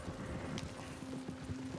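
Horse hooves galloping in the Red Dead Redemption 2 video game: a quick, steady clip-clop rhythm of hoofbeats, moderately quiet and continuous, with no voices over it.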